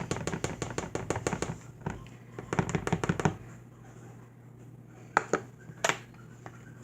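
An egg beaten into brownie batter with a fork instead of a whisk, heard as rapid close clicking taps against a bowl in two bursts, followed by a few isolated knocks, with no talk.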